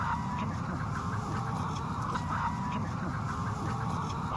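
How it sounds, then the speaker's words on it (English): An Isa Brown hen, a docile hybrid laying hen, clucks and murmurs in short, soft repeated calls over a steady background hum, fairly close but not loud. "That's one of our hens."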